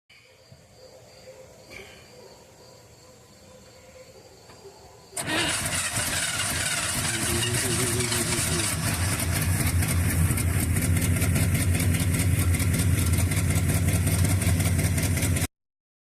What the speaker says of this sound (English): If you listen close, you can hear a cylinder coming in, coming out, coming in, coming out